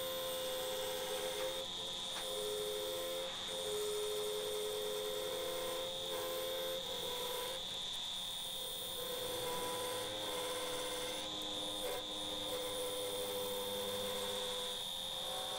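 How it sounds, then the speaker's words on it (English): A wood lathe spins an ash bowl blank while its corners are cut away, producing a constant loud whine and hum with steady tonal drone and rough rumbling from the tool contact throughout. "And now we're taking the corners off and making it nice and round."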